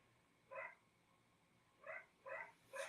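A dog barks four times at a distance, one short bark followed after a pause by three more in an uneven rhythm, each faint and clear above a quiet background hum.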